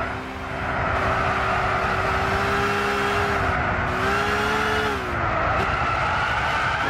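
A race car in Gran Turismo 6 skids on a rain-slicked track, its engine droning steadily while tires hiss and squeal continuously, with pitch wavering as the car slides out of control.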